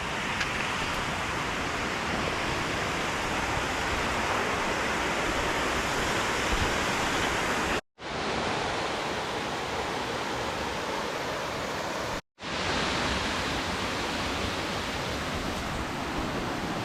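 A waterfall along the Hazel Creek trail roars loud and close as a dense, unbroken rush of water, cut twice by brief silent breaks.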